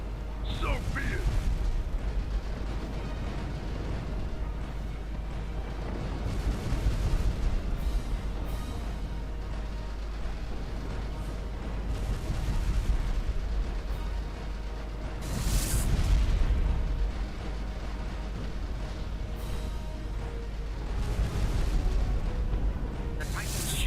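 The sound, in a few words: Ragnarov Titan's autocannons firing in Sins of a Solar Empire: Rebellion (video game)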